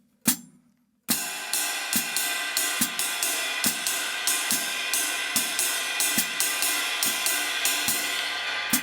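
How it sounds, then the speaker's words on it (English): A drum kit plays a full mozambique ride cymbal rhythm after a short count-in hit, with steady repeating ride strokes and accented kick and snare hits in a tight loop, close and loud. "The full ride rhythm sounds like this."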